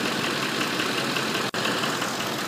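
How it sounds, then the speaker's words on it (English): A Ford vehicle's engine idles during a coolant flush, a steady, even running drone heard close up, broken by one very brief dropout midway. "Now during this process, you're just going to want to leave the engine at an idle."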